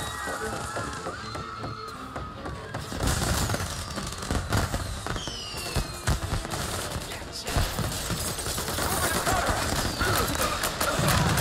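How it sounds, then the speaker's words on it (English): Fireworks in a Mafia I: Definitive Edition PC game scene, a loud run of crackling bursts, pops and whistling rockets in rapid irregular succession, layered over continuous background game ambience. "And now for the fireworks"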